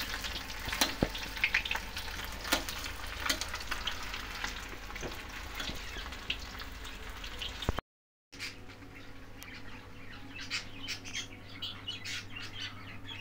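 Pakora batter frying in oil in a pan gives a continuous soft sizzle with crackles, briefly cut off midway, while birds chirp faintly in the background.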